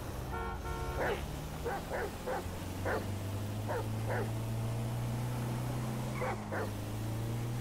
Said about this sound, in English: He bark all he like.